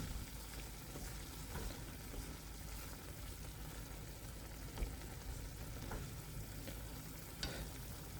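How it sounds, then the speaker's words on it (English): Korean spicy chicken sauce reduces in a pan while being stirred: a soft, even frying hiss with a few faint spoon knocks, no voices. "So we're gonna stir this up, right? And we're gonna let all this kind of reduce over time."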